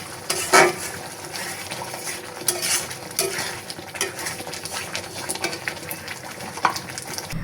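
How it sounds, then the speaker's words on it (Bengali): Spice paste with cinnamon, cardamom, cloves and salt is stir-fried in a pan: a utensil scrapes and knocks against the metal over a steady low sizzle, with a few sharper clinks standing out. "মশলাটাকে খুব ভালোভাবে কষিয়ে নিব। আর এখানে হচ্ছে আমি দারচিনি, এলাচ আর লবঙ্গ এগুলো হচ্ছে দিয়ে দিয়েছি।"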